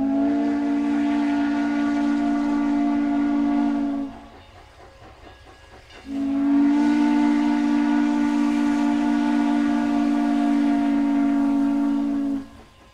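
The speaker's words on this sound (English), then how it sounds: "the lonesome whistle's a regular thing to hear." A steam locomotive whistle in Utah's Heber Valley sounds two long, steady blasts of several seconds each, separated by a short pause, loud and close, with no talking over it.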